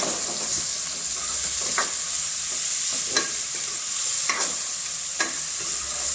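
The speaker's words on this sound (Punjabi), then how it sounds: "ਟਮਾਟਰ ਪਾ ਕੇ ਆਪਾਂ ਹੁਣ ਇਹਨੂੰ ਤੜਕੇ ਨੂੰ ਮਿਕਸ ਕਰ ਦਵਾਂਗੇ" Tomatoes stirred into a sizzling green chili tempering for cabbage, a loud steady hiss of frying with a few sharp spoon scrapes against the pan at intervals, no voices.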